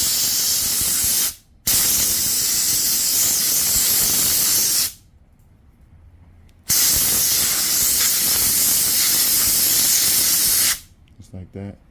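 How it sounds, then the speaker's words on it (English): Compressed air blasting dirt off a 25cc two-cycle weed eater, two long loud hissing bursts close by, separated by short pauses, with a final brief sputter. "just kind of blow this dirt off."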